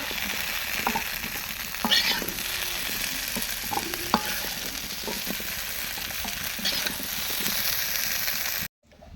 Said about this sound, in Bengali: কাঁচা কলাগুলো ভাজা হয়ে গেছে।